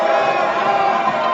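Members of parliament in a crowded chamber make a loud, continuous din of shouting and overlapping voices, a close, dense roar of protest with no pauses.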